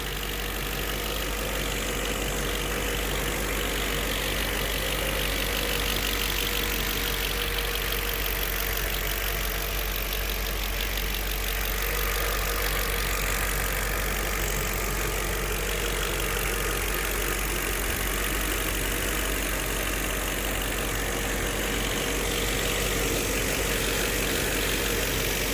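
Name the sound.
2006 Audi A8 engine idling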